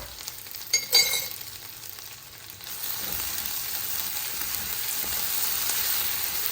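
Ginger, garlic, green chili and onion fry in a pan with a steady close sizzle and crackle, a few brief clatters of stirring near the start before the hiss settles into a continuous even fry.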